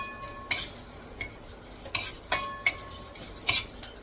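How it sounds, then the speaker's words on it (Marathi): Sesame and poppy seeds are roasted briefly in a hot pan and stirred with a metal spoon, giving quiet irregular scraping clicks and light taps over a soft hiss. "आता हे तीळ आणि खसखस कारण हे उडणार आहे तर उडतील म्हणून एकदम लासला टाकते आणि पटकन लगेच काढून घेते"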